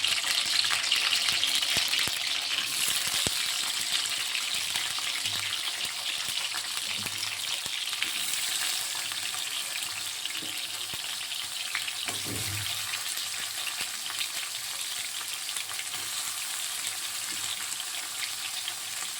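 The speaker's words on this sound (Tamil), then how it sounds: "நம்ம இந்த பாவக்காவை லைட்டாக ஃப்ரை பண்ணி எடுத்துக்கலாம்." Bitter gourd frying in oil in a pan, a steady broadband sizzle throughout with occasional soft stirring knocks, moderately loud and unaccompanied by talk.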